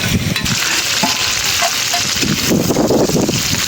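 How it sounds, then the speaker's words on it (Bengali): Shrimp frying in a pan gives a loud, steady sizzle with bursts of bubbling crackle and occasional stirring, close up and with no talk. "মাছ ভাজা হয়ে গেছে।"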